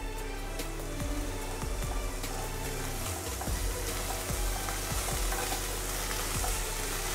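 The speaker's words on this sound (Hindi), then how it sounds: "इसे बहुत ज़्यादा फ्राई नहीं करना है, ये थोड़ा क्रंची रहे।" Vegetables and green spring onion stir-fried over high heat for Indo-Chinese chicken fried rice sizzle loudly and steadily, with repeated scrapes and knocks of a utensil stirring the pan and no talking.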